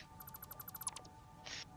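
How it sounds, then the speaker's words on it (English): A phone alarm goes off indoors, sounding as a quick run of soft, evenly spaced electronic beeps followed by a brief buzzing burst, fairly quiet and alone. "Sorry, my alarm's going off"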